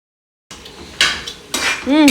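A spoon stirring keema methi tomato curry in a pot, a few close scrapes and clinks against the metal at a slow rhythm, with a voice starting to speak at the end.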